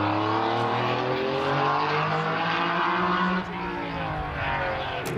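Porsche rally car driving mountain pass roads in the Coppa Costa Smeralda rally, a loud sustained engine drone with rising and falling revs, dipping slightly as it shifts partway through.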